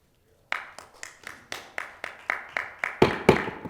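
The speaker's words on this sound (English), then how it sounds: "Please keep your applause to yourself." A single person claps at a city council meeting, ten or so distinct, evenly spaced claps that start after a short silence and grow slightly louder near the end, with no voices.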